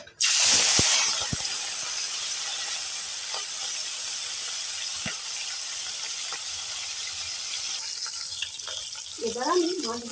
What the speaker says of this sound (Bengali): তেলটাকে ভালো করে গরম করে নিয়েছি এবার মাছগুলোকে দিয়ে দেবো